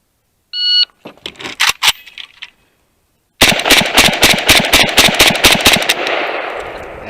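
An AK-47 rifle fires ten shots in a timed run. A shot-timer beep and a few sharp sounds come first, then a rapid string of loud, close cracks that fade into a ringing echo.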